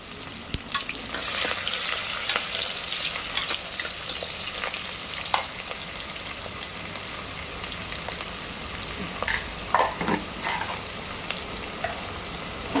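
Three large chopped onions and cumin frying in a pan, a dense, steady close sizzle like rain on a surface, with occasional stirring scrapes and taps throughout.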